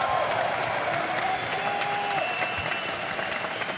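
German fans fill an esports final venue with steady, loud applause and crowd cheering, a dense wash of clapping that holds for several seconds, with a faint tonal line running underneath.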